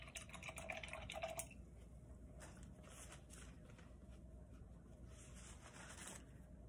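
A paint brush being rinsed in a cup of water, with a short burst of sloshing and dripping at the start that settles into faint, quiet trickles and small splashes.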